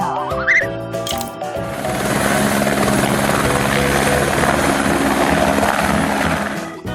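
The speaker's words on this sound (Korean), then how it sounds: "Helicopter." Helicopter in a children's vehicle sound clip, a loud continuous rotor chop and engine whine that swells in after a short musical chime and holds steady to the end.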